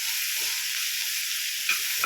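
Grated radish for a chutney is stir-fried in a pan, giving a steady close sizzle with a few soft scrapes from stirring and no talking.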